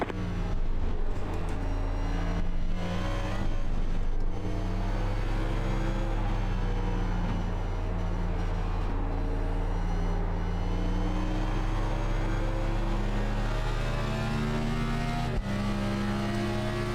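Simulated race car engines whine steadily around Watkins Glen in the iRacing game, the pitch sweeping up and down through gear shifts, with a sharp shift near the end and no voices.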